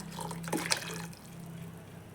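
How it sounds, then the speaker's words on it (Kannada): Boiled legume cooking water pours into a pot of sambar, giving a brief liquid splash and trickle that fades into quiet kitchen background noise. "ಉಪ್ಪು ಕಾಳು ಬೇಯಿಸಿದ್ನಲ್ಲ, ಅದು ನೀರು, ಅದನ್ನು ಕೂಡ ಇದಕ್ಕೆ ಹಾಕ್ಕೊತಿದ್ದೀನಿ"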